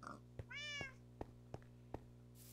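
A Minecraft cat gives one clear, rising-and-falling meow near the start. Short sharp clicks and footsteps from the game follow at regular intervals, all fairly quiet.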